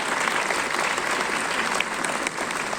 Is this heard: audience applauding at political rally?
yes